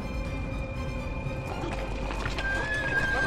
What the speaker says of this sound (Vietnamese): Sao lại có nhiều ngựa như vậy?